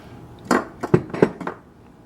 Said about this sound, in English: I'm just going to stir this in here